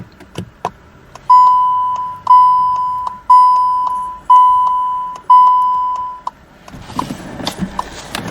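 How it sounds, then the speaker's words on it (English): Hazard lights on a 2017 SEAT León 5-door FR tick in a steady run of about five loud, evenly spaced chimes with sharp onsets and slow decays, each backed by a faint click, followed by softer clatter at the end. "Turn on the hazard lights, put on the main lights."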